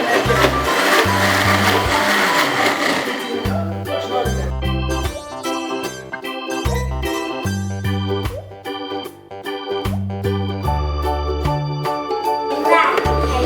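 A kitchen blender grinds soaked beans for Nigerian akara bean cake, a loud whirring motor that surges and stutters in rapid on-off pulses, alone without talk.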